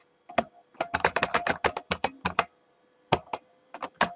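Someone types a password on a computer keyboard: clusters of quick, crisp key taps in bursts, then a short pause and a few more strokes, close and fairly quiet.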